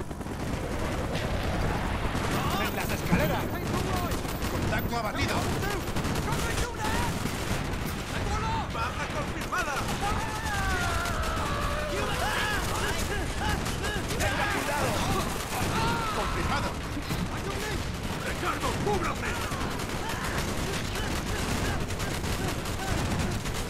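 Rapid bursts of gunfire in Call of Duty: Black Ops crackle continuously, mixed with game effects and someone talking over the action.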